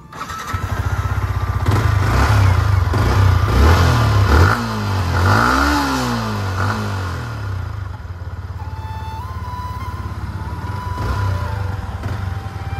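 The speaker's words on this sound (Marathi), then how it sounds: "तर कंपनीचा आवाज एकदा ऐकूनच घ्या, एक्झॉस्ट लय दिवस झाला ऐकले।" A Yamaha MT-15 V2 motorcycle with its stock silencer exhaust idles close by, then is revved in rising and falling bursts before settling back into a steady, loud idle.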